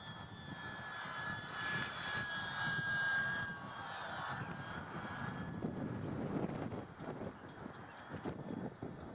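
A small UMX Pitts remote-control model airplane flies outdoors in a fairly strong wind, its thin high motor whine steady throughout, partly buried under loud, rumbling wind buffeting the microphone.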